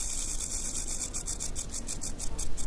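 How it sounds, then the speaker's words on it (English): A giant rattlesnake shakes its tail in a continuous dry buzzing rattle with a fast pulsing rhythm, close and steady, growing slightly louder toward the end. "Just a flick of the tail and the sound of the rattle are usually enough to provoke fear among most of us"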